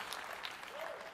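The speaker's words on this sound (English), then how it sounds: "Clap that up because you asked for it." Crowd at a Madden NFL 27 video game reveal breaking into brief applause, clapping and a few cheers with a faint voice under it.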